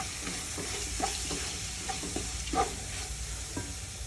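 Chili powder and coriander powder fry in a pan as a spoon stirs them. A soft, low sizzle runs underneath, broken by light scraping and tapping strokes that come at irregular moments.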